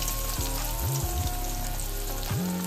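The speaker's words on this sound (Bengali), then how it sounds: "আলুগুলোকে মোটামুটি একটু ভেজে নেব" Large chunks of potato frying in hot oil with a little salt and turmeric, a steady loud sizzle broken by brief stirring shifts.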